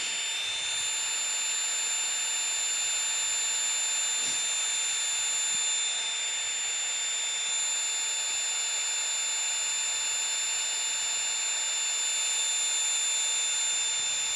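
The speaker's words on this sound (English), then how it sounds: "I want you to see how long it takes to fill up a standard size sleeping pad" An Atomic Pump inflates a 25 by 72 inch sleeping pad outdoors in falling snow, a steady high-pitched electric whine and airy hiss holding level the whole time, close and loud, with no speech.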